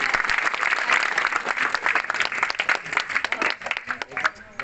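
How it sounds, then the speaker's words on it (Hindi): Audience clapping at a political gathering where people join the Congress party, uneven bursts of hand claps with voices mixed in beneath. "जोरदार तालियां बजा के स्वागत करूंगा"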